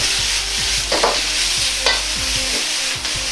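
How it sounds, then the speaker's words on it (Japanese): Cabbage stir-fried over high heat with garlic, ginger, doubanjiang and oil gives a loud, continuous close sizzle. Spatula scrapes and tosses break through it at intervals. "キャベツを入れたらニンニク生姜豆板醤と油がキャベツに絡むようにして炒めていきます"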